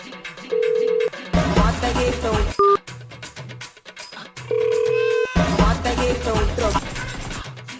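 A mobile phone rings with an incoming call, its ringtone pattern playing in two bursts of tones and beeps, close and fairly loud, with brief gaps between them.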